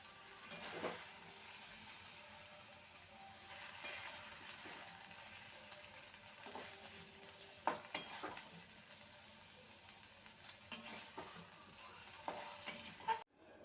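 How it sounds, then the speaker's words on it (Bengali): Taro stems cooked with hilsa fish head being stirred in a pan, giving steady soft sizzling with scattered scraping clicks of the spatula, no talking. "দু মিনিট নেড়ে নেব এটা রেডি হয়ে গেছে"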